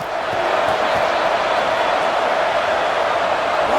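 Steady, dense roar of a hostile stadium crowd in a college football video game, a continuous wash of massed voices holding at an even level throughout.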